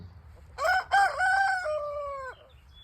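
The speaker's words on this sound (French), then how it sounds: "Le petit coq." A small rooster crows once, clear and fairly close, a rising then long falling call among garden hens, over quiet outdoor background.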